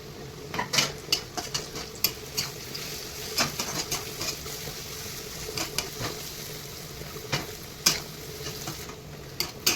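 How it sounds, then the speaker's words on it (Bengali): Snake gourd frying in a pan with poppy seeds, garlic and spices, a soft steady sizzle broken by repeated light scraping and clinking of a spatula stirring against the pan. "এইভাবে আপনারা চিচিংয়ে ভাজবেন রসুন পোস্ত দিয়ে হেভি লাগবে"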